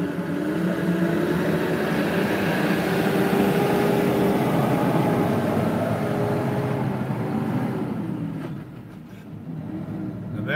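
A heavily loaded Freightliner truck engine revs loud and rough at close range, its droning pitch sliding as it pulls, then dips briefly near the end as a gear is grabbed before the engine picks up again.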